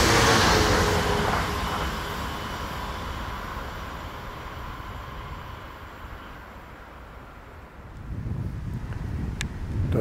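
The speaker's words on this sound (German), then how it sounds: "Der Wind wird immer stärker" Strong wind gusts hard across an open spot near a railway line in the Spessart, a heavy rumbling roar that eases off midway and then swells again.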